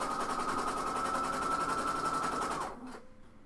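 Sewing machine stitching blouse fabric in a steady, fast continuous whir close by, running for nearly three seconds before slowing and stopping, leaving faint room noise.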